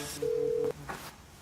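A telephone gives one short electronic ring tone, steady and loud for about half a second, then cuts off, followed by a faint trailing sound.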